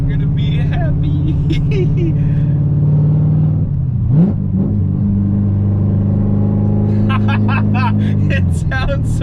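Corvette C7 Z06 with Stainless Works long-tube headers and a Magnaflow Competition catback, revving loud and near in a deep, sustained rumble that surges and eases, with engine pitch sliding up and down through the run.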